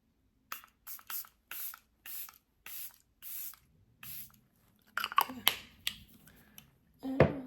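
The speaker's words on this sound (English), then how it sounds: "This is the Airbrush Flawless Setting Spray." Charlotte Tilbury Airbrush Flawless setting spray hissing from its pump bottle in about ten short, evenly spaced bursts, close and crisp, followed by a few soft rustles and clicks.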